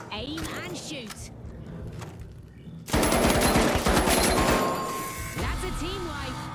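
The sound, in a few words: gunfire in Marathon video game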